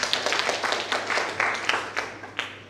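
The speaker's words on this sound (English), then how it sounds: "A better round of applause for Vincent de Paul, please." An audience at a book launch event claps in a round of applause, with moderately loud, distinct individual claps that keep a steady pace throughout.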